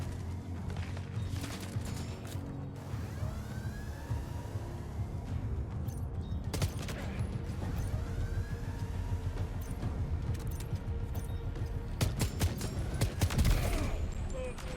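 Gunfire in the video game Death Stranding 2, with a few sharp shots and bursts standing out over a steady rumble of motors and mechanical game noise, louder toward the end.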